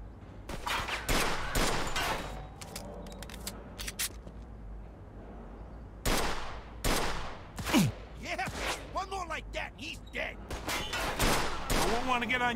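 Gunfire in the video game Mafia 2: Definitive Edition during a hostage rescue, several loud close bursts and single shots separated by pauses, with talk in between.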